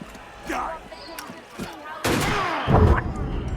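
Gunfire in an Assassin's Creed game set during the French Revolution: a few sharp, scattered reports, with a heavier close shot near the end, all under background battle noise.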